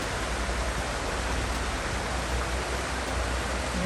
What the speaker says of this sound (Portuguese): Aí o rio vem descendo, fazendo várias cachoeirinhas,